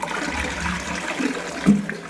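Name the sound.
toilet flush after cleaning commode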